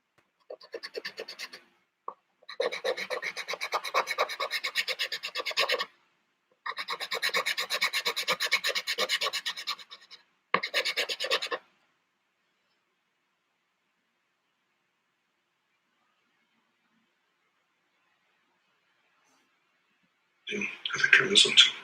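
Pencil or pastel drawing on paper rubbed and smoothed by hand, a close, dry rasping scrape in several sustained bursts with short pauses, then silence before one last brief rub.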